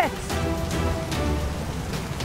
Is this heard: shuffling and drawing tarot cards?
no